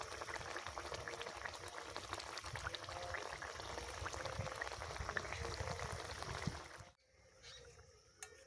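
Pangas fish curry boiling in a pot, a steady dense bubbling and simmering that fills most of the stretch, then cuts out abruptly near the end, leaving a few faint clinks.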